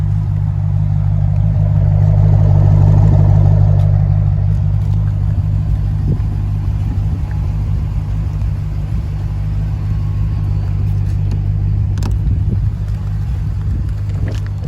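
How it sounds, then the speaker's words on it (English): A 2010 Dodge Challenger SRT8 with dual exhaust idles with a deep, steady low rumble close by, swelling slightly early on and then holding even, with no talking over it. "Dual exhaust."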